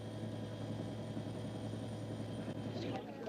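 A helicopter delivering wheat seed to farmers descends into a valley in drought-stricken Ethiopia, its engine and rotor a steady, loud, continuous drone throughout, with a brief rising change near the end.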